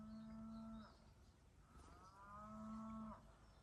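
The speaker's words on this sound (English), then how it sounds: "You can hear a cow lowing in the background." A cow lows twice near a spring-fed stream in the woods by a country cottage, each long call rising and fading, the two calls separated by a short pause over a soft background of running water.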